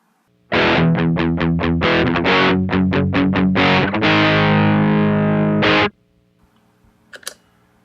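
Electric guitar played through a Strymon Riverside overdrive pedal gives a loud, distorted riff of rapid stabbed chords that end in a sustained ringing chord, cut off abruptly before a faint click at the end.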